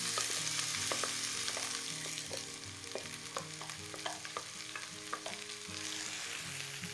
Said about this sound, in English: I'm gonna add my vegetables, and you can just add them all in one go.